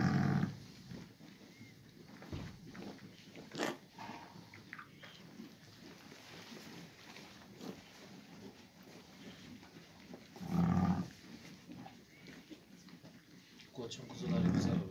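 Akkaraman sheep bleat a few times during lambing on a farm, short, close, nasal calls at the start, middle and end, while people talk through most of the scene.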